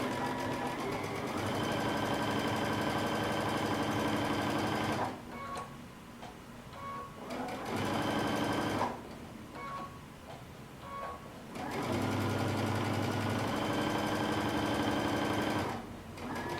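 A sewing machine stitches the shoulder tabs of a cape, a steady fast mechanical whirr running in long bursts with short quieter pauses between them, close and clear.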